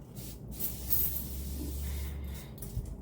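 Facial mist is sprayed onto a face in a brief soft hiss that lasts a couple of seconds, close and fairly faint, with no talk.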